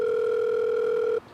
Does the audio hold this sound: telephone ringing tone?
yes